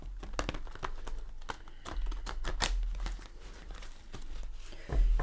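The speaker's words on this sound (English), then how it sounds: "let's give it a shuffle or two" A Luminous Tarot deck being shuffled by hand, close crisp riffles and slaps of oversized cards in quick irregular bursts, with no talking.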